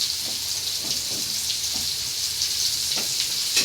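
Jute leaf greens frying in a pan in a home kitchen, a steady close hiss of oil with soft scraping stirs now and then, no talking.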